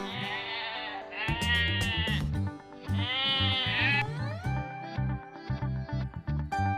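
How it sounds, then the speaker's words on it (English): Sheep bleating on a farm, several loud wavering bleats in quick succession, close and clear, with no talking over them. "Hi, I am sheep. I make the sound ba-ba."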